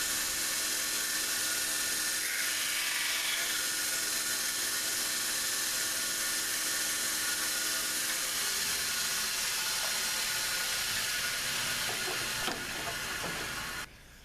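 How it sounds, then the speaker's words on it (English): Dremel rotary tool detailing and shaping a Kydex knife sheath, a continuous high-pitched whining drone that holds steady for about fourteen seconds with slight pitch shifts, close and fairly loud, then cuts off abruptly at the end; nobody speaks. "now I'm just going to use the Dremel tool just to kind of do some, I guess, more detailing"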